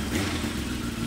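A short, close burst of a Kawasaki racing motorcycle engine running, a rough, throaty rumble with a slight rise in revs that lasts only about a second.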